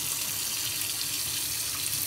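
Hot tap water running steadily over chickpeas in a sink to rinse them after their first boil, a continuous close hiss and splash with no talking.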